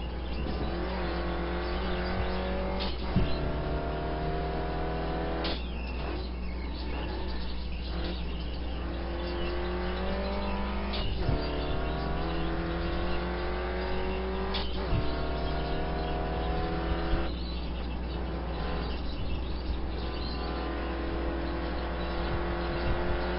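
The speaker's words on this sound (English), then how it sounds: "you can see I can get right on the gas in this car without fear of spinning" A sport touring race car at Infineon runs hard on the track with its engine steadily loud and droning. Revs rise repeatedly and drop sharply at gear changes across the lap, heard from inside the car.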